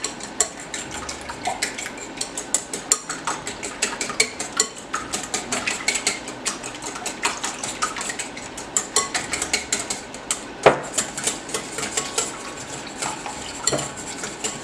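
A whisk beats a Frank's hot sauce mixture in a bowl. It makes rapid, irregular metallic clicks and scrapes against the bowl sides at close range, with no voices.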